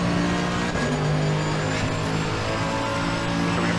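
Race car engine in Assetto Corsa Competizione accelerating out of the final corner, a steady loud droning roar with rising harmonics held throughout, no speech.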